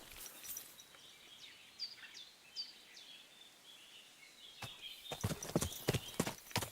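Horse hooves clip-clop in Kingdom Come Deliverance 2, faint and sparse at first with soft bird calls, then a clearer run of sharp, rhythmic hoofbeats near the end.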